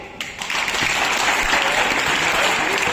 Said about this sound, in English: If you think it's really, really good, I want you to give us a clap.